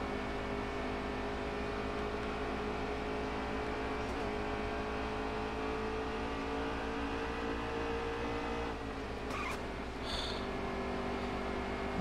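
Racing truck engines roar steadily in NASCAR Heat 3, a dense layered drone of several trucks at full throttle on track, with a brief shift in pitch near the end and no talk.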